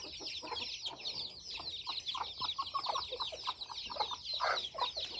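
A single farmyard rooster clucks in short repeated bursts against a steady background of birdsong, moderately close and fairly quiet, with no talking.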